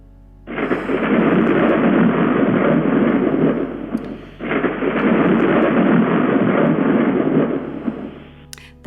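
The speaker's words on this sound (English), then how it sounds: "The thunder from the storm outside crescendos, then dies out again." Thunder from a storm outside in the 1986 horror game Uninvited, two long, loud rumbling swells that each build, hold, then die away, with a brief lull between them.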